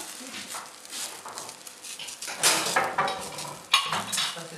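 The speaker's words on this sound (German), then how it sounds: "du drückst es jetzt so, dass das Tomatenmark auf den Pfannenboden kommt." Tomato paste pressed and stirred in a frying pan at a live vegan street-food cooking workshop, with spoon or spatula scraping and clinking against the pan in busy, uneven bursts and faint sizzling underneath.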